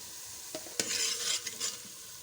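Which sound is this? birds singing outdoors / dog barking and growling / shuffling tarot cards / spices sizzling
spices sizzling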